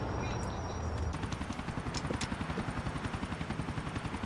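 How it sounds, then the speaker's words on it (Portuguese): A helicopter passes in GTA 4, its rotor chop thumping steadily and growing more distinct over a few seconds, close and fairly loud. "Passa um helicóptero aí, hein"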